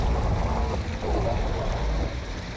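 Rushing water flowing around a flooding submarine in the modded video game Barotrauma, a loud, continuous broadband wash with rumbling low end and no clear breaks.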